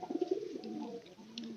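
Pigeons kept by a household coo in soft, low repeated phrases, close by and fairly quiet, with no one speaking over them.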